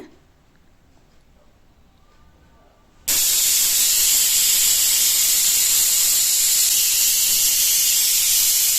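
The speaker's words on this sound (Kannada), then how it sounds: "ಈಗ ಕುಕ್ಕರ್ ಮುಚ್ಚಳ ಮುಚ್ಚಿ 2 ವಿಷಲ್ ತೊಗೋತೀನಿ." Quiet stillness, then a sudden loud, sharp hiss of steam bursting out of a pressure cooker whistle while cooking jeera rice, continuing steadily at full strength to the end.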